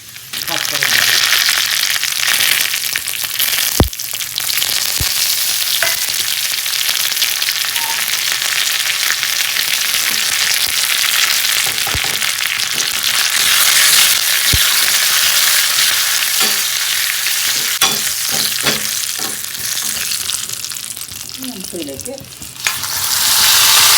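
Curry leaves hit hot oil after fenugreek seeds with a loud, crackling sizzle that settles into a steady hiss, punctuated by a few sharp pops and utensil knocks.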